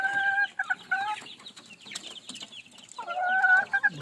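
Chickens cluck and squawk close by in short bursts, with a louder run of calls at the start and again near the end.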